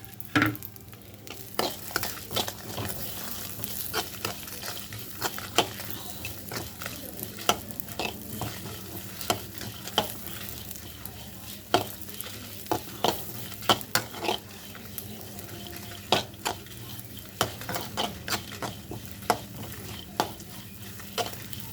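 Green and dried chilies fry in a pan with steady sizzling, scraped and stirred throughout, with sharp utensil clicks against the pan at irregular intervals.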